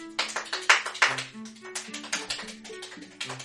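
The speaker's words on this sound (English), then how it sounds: "What's that thing where you clap your hands real fast?" Hands clap very fast in quick rhythmic bursts, close and moderately loud, with a steady tonal background underneath.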